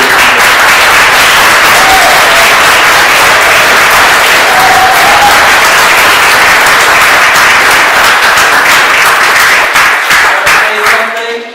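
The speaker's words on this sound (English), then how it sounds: "we can give a round of applause for the big" A crowd at a school term-end event gives a loud, steady round of applause for the teachers, dense clapping that carries on for several seconds before trailing off.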